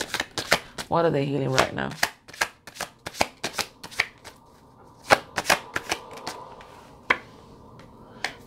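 Tarot cards shuffled by hand, giving a rapid riffling burst followed by a run of sharp, irregular slaps and taps as cards are cut and laid down, close and fairly loud, with a brief spoken question near the start.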